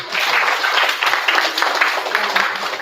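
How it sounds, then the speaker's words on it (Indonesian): Audience applause at a Puskesmas Bondongan community health centre event, a steady wash of many hands clapping at moderate volume for about three seconds, with faint voices mixed underneath. "Boleh tepuk tangan?"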